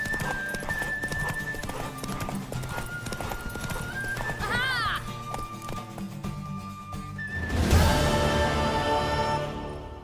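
In The Witcher 3, a mare's hooves clip-clop in a fast gallop, with a loud neigh partway through and a burst of commotion near the end, while voices speak over the action.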